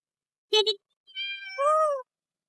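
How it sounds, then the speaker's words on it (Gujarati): A cat gives a short meow followed by a longer, drawn-out meow, both close and clear against an otherwise silent background. "આ જો બિલ્લી"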